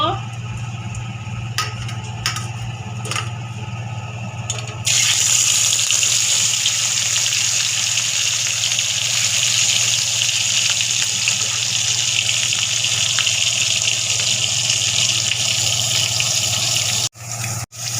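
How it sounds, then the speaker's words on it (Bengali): Pomfret fish fry in hot oil, a loud, steady sizzling hiss that bursts in after a few seconds of quieter kitchen sounds and small clicks, then continues evenly, close and unbroken, with a brief dropout near the end. "দেখো আমার তেল গরম হয়ে গেছে, এবার আমি মাছগুলো ভেজে নেব"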